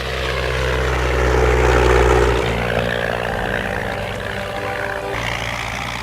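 An early propeller aeroplane engine drones loud and close in flight, a steady buzzing roar that eases slightly partway through.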